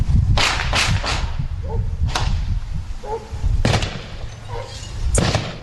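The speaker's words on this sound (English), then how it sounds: "A flashbang followed by gunshots." A police flashbang goes off, then sporadic gunshots: several sharp, loud cracks ring out at irregular intervals, one bang followed by sporadic shots, with a low muffled rumble between them.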